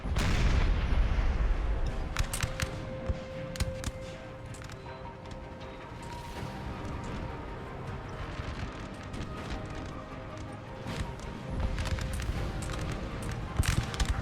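Infantry musket fire crackles through a Napoleon: Total War battle. A dense, sustained rattle of scattered shots is heard over a low rumble, with heavier booms at the start and end.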